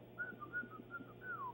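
A person imitates a whistle with their voice, a short tune of a few quick notes ending in a longer gliding tone, heard faintly over a muffled, narrow line.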